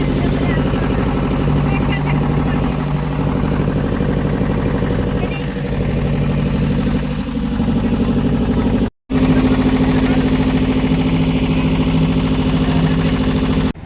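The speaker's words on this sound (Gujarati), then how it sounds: "ફાઇનલી બોટ ચાલુ થઈ ગઈ ને અમે બધા જઈએ છીએ નદીના બીજા કાંઠે" A motor boat crossing a river drones with a steady, loud mid-pitched engine note that runs unbroken throughout, apart from one very brief dropout.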